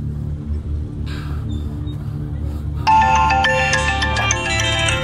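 A phone plays a bright, loud melodic ringtone for an outgoing call. It starts partway through, after a low rumbling background and faint earlier tones, and continues steadily to the end.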